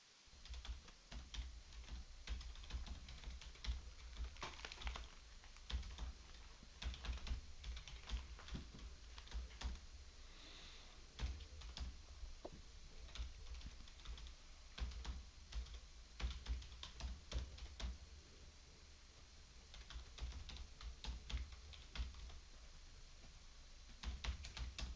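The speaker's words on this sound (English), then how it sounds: "Somebody's typing hard." Fast, hard typing on a computer keyboard clatters continuously for the whole stretch, irregular bursts of close key clicks with brief pauses and no talk.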